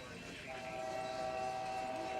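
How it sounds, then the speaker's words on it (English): An Amtrak train passes in the video game Roblox, with a sustained rumbling rail roar and a steady horn-like tone that sounds from about halfway through and holds under faint background speech. "They actually put an Amtrak train in here."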